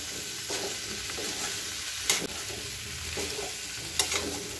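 Pumpkin pieces stirred into a spiced curry in a pan, a steady sizzle and fry with scraping spoon strokes every second or two, two sharper knocks against the pan, close and fairly quiet, no talking.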